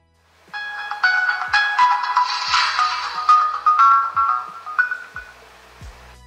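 A cheap online-bought smartphone made to look like a Samsung plays its startup jingle after being switched on, a bright melodic tune with a few soft low clicks, loud and close for about five seconds with no talking.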